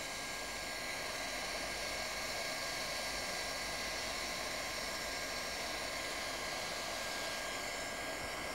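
A heat gun blows steadily on the edge of a patch on a wine press membrane, a constant loud hiss and whoosh of hot air that holds unchanged throughout with no talk.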